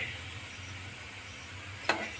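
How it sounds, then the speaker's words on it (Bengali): Flattened rice and potato pakoras fry in hot oil with a steady, soft close-up sizzle, then a short sharp crackle near the end. "এভাবে পরের ব্যাসটাও ভেজে নেব"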